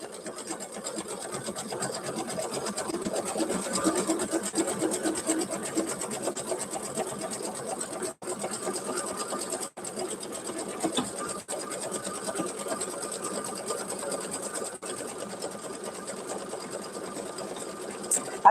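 An embroidery machine stitches out a design in a steady, fast mechanical hum and needle chatter, close and continuous, with a few brief pauses.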